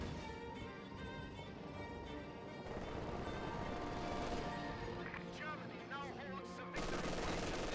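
MG42 machine gun fire rattles through a busy Company of Heroes 2 battle, quiet and mixed with other shots and explosions while a commentator speaks over it.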